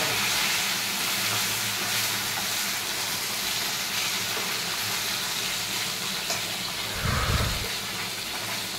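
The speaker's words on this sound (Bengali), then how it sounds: "ঢ্যাঁড়সটাকেও দিয়ে দিলাম, ঢ্যাঁড়সগুলো ভালো করে ভেজে নিতে হবে।" Okra frying in a hot pan, giving a constant, loud hiss and sizzle that holds steady throughout, with a brief stirring clatter near the end and no talking.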